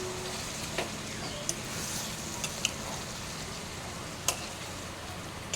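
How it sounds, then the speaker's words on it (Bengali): Rice frying in a pan for chicken jeera rice gives a steady, fairly quiet hiss of sizzling throughout, with a few sharp clicks and taps scattered across it, heard alone without talk. "ওদিকে রাইসটা ভাজা হচ্ছে।"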